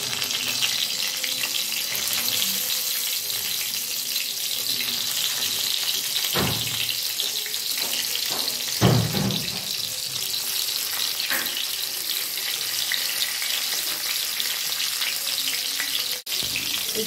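Stuffed tomatoes frying in hot oil: a dense, bright, continuous sizzle and crackle up close, with a couple of soft thuds and clinks of utensils partway through, and no voices.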